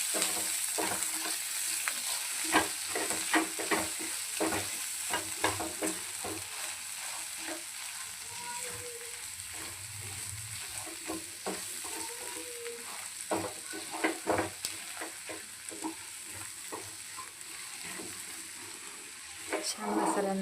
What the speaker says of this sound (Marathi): आपल्याला तेलामध्ये परतून घ्यायचं आहे